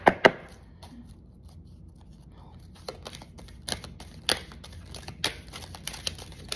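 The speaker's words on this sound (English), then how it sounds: "Some decks I can shuffle easier than others." Tarot cards being shuffled by hand, a few crisp riffling bursts near the start, then scattered light clicks and soft card snaps over quiet room noise.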